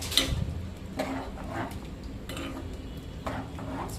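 A spoon scrapes and clinks against a pan as spices, coriander and chilli powder are stirred into rice, producing several irregular metallic scrapes over a soft background.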